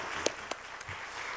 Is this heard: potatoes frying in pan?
no